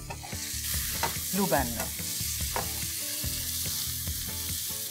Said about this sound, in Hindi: प्याज को हम चॉप करके सॉटे करेंगे